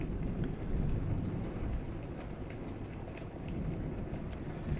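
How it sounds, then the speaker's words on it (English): Steady rain during a thunderstorm, with low rolling rumble under a constant soft patter heard faintly from a distance. "Now I'm definitely hearing the rain."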